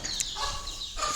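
Chickens on a home property giving a brief burst of clucking and squawking, fairly close and alone, with no talk.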